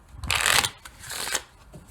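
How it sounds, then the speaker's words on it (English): A spectator shuffles a deck of playing cards in two quick bursts of riffling flutter, close and crisp, with a short pause between them and no talking. "spectator shuffle the cards as much as they want. They can cut them, they can do a riffle."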